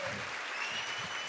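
Applause from a live studio audience at a comedy show, steady and fairly distant clapping throughout with no one speaking.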